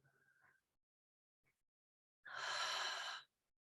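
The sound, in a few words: open-mouth exhale during a breathing exercise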